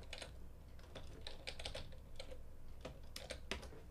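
Quick clicking keystrokes on a computer keyboard as a search word is typed, a close, light tapping run with short pauses over a quiet hum.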